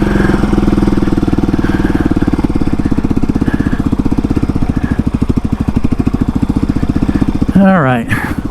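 Close, loud pulsing drone of a dirt bike engine running steadily during a ride, its throb constant throughout before a sharp rising rev near the end; a voice speaks partway through.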